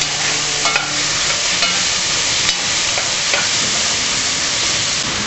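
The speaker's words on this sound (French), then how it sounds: "Donc la deuxième étape est de faire revenir les oignons. En même temps, les pommes. Mélangez le tout." Onions and apples sautéing together in a pan for rabbit in sweet cider, a loud steady close sizzle with light stirring clicks and scrapes scattered throughout and no speech.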